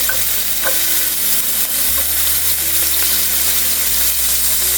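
Dried chilli, garlic and green chili fry in oil in a pan, giving a loud, continuous close sizzle with faint stirring scrapes.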